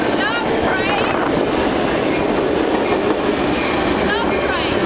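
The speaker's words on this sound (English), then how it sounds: "Now here we go, here comes the thunder. Don't you just love trains?" A Metro Railways train rushes past at close range, a steady loud roar of wheels and rumble with rhythmic clickety-clack, filling the whole stretch without pause.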